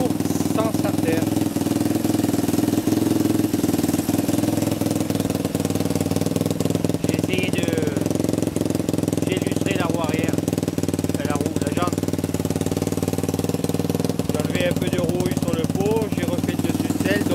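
A Honda 125 XLS motorcycle engine runs continuously with a steady, loud mechanical chatter, while a person speaks over it.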